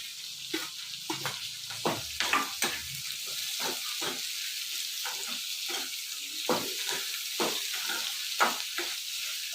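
Radish sizzles and fries in a pan, a steady bright hiss broken by repeated scraping and clacking stirring strokes at an uneven rhythm, close and clear, with no voices.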